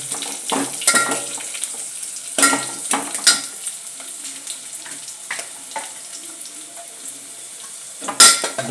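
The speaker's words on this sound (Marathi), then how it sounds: "हे पहिले भाजूंक जाय, मातशें ब्रावन जावपाक जाय." Food sizzles and fries in a pan until lightly browned before onion goes in, with steady crackling and a few sharp scraping stirs of a utensil against the pan.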